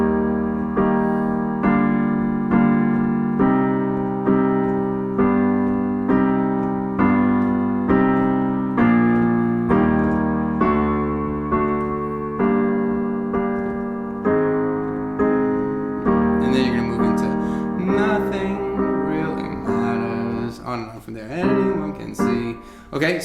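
Piano plays a closing instrumental passage in steady repeated chords, loud and close, with a busier, more broken texture near the end and no voices.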